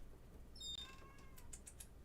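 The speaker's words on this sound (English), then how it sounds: "Cats are in here like crazy." A house cat gives a short, faint meow with a rising pitch, followed by a few quick soft chirps or clicks in a quiet indoor room.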